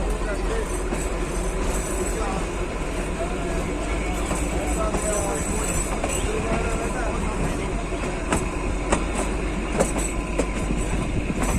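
The Kalka-Shimla toy train pulls away from Salagora station, a steady close rumble of wheels and carriages rolling on the narrow-gauge track with occasional clicks and faint squeals, constant in loudness throughout.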